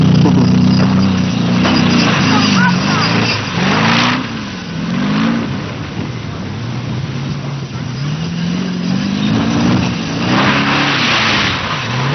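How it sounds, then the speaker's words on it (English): A turbocharged V8 Land Rover at a 1985 AWDC safari event at Bovington revs hard through soft sand, its engine note rising and falling in repeated surges, loud and close. "The turbocharged V8 was really performing and powering the vehicle through the claggy soft sand"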